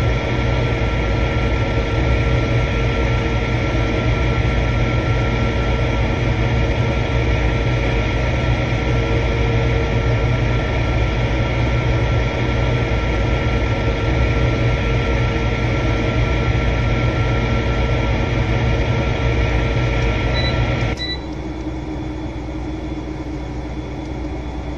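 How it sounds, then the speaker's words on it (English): A train rolling past in the video game Farming Simulator 2015, a loud, steady rumbling drone with constant engine hum that holds without a break, then drops abruptly to a quieter level near the end. "Here comes the train with the lights on."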